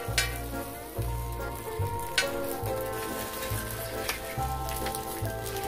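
Kimchi pancake batter sizzles and crackles steadily in a hot frying pan while being stir-fried, with a constant hiss and low rhythmic thumps running underneath.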